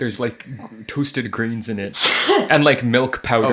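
A single sharp sneeze bursts out in the middle of ongoing conversation, loud and close, with people talking before and after it.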